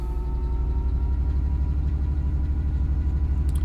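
A Class 66 diesel locomotive in Train Simulator 2017 revs steadily under load as it tries to pull away, a deep, continuous engine drone with a throbbing low rumble and no talk over it.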